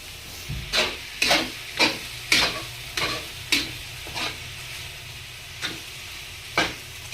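Sisig with chili gets mixed in a hot pan, a sizzling bed broken by a rhythmic series of sharp spatula scrapes and knocks, about a dozen strokes spaced roughly half a second to a second apart.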